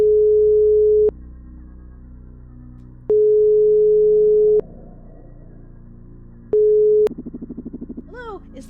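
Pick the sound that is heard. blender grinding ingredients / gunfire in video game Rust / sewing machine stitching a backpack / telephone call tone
telephone call tone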